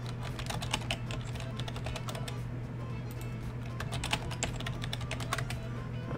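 Keys clatter on a computer keyboard as a password is typed during an operating system setup, with quick irregular clicks in bursts over a steady low hum, close and fairly quiet, and no talk.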